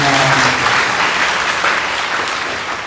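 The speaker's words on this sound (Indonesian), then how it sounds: "Berikan tepuk tangan buat Tuhan." Church congregation applauding loudly and steadily at a Sunday service in Indonesia, a dense wash of many hands clapping that fades slightly toward the end, with a low sustained tone beneath at first.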